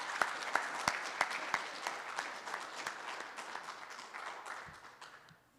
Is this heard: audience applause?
yes